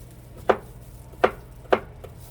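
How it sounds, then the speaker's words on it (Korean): A knife slices through pear onto a cutting board in three crisp, evenly spaced chops close by, with quiet pauses between strokes and no talking. "배를 이렇게 조금 많이 썰어 놓습니다"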